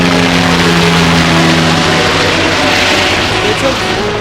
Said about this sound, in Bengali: পেছন দিয়ে হেলিকপ্টার যাচ্ছে উপর দিয়ে